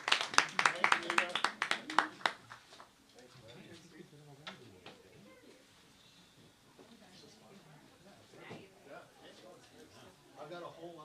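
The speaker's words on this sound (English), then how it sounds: "One last round of applause for Dave Ronald and All Ears Production" An audience at a festival food forum gives a short round of sharp, close claps that fades after about two seconds, and people go on talking and murmuring afterward.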